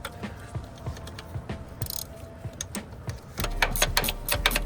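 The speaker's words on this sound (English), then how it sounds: "let's start working these bolts down little by little" 13 mm wrench working bolts down on the air pump of a 1995 Mack truck, a close series of rapid ratcheting clicks that grows louder and busier toward the end, with no talking.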